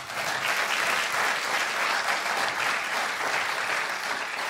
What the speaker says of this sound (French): Et je crois que ça mérite vraiment nos applaudissements.